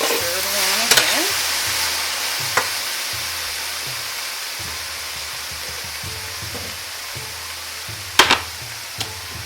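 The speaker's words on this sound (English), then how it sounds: "Just going to take the lid off of this now and stir it around again" Sweet and sour sauce being stirred in a pot after the lid comes off, a low bubbling simmer with a few sharp clinks of utensil against the pot.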